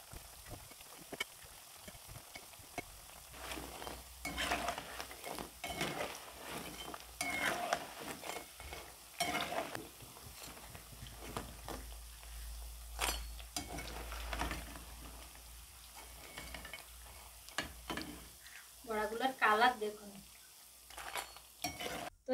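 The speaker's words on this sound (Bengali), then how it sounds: "একদমই একই ভাবে পাশ ঘুরিয়ে ঘুরিয়ে মিডিয়াম জালে ভেজে নেব।" Lentil fritters (dal bora) fry in oil over medium heat with a quiet, steady sizzle. Scattered clinks and scrapes of a utensil turning them sound throughout the stretch.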